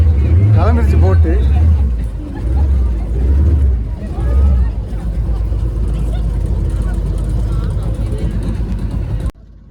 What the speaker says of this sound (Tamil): கிளம்பிடுச்சு போட்டு.